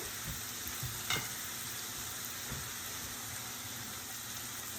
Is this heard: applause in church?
no